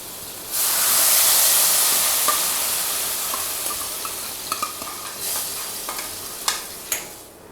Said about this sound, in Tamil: இப்போ இந்த தாளிச்சதை வந்து நம்ம அந்த சட்னியில் சேர்த்துடலாம்.